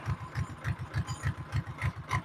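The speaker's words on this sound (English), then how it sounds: "She's not drove the tractor very many times. Look at her go." Tractor engine running nearby, a steady low chugging pulse with a regular rhythmic thump, heard alone without voices.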